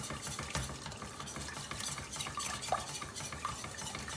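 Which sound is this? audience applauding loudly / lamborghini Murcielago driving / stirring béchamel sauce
stirring béchamel sauce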